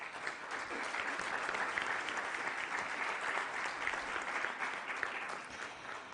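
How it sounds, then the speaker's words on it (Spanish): An audience at a university forum on social responsibility applauds with dense, steady clapping. It sounds fairly distant and holds an even level for several seconds before tapering slightly. "Otro aplauso, por favor."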